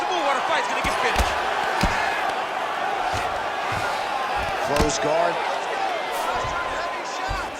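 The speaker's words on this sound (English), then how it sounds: "the crowd pops in appreciation" A virtual arena crowd in a UFC 5 middleweight title fight simulation roars and cheers steadily throughout, with a commentator's voice and scattered impacts cutting through the dense crowd noise.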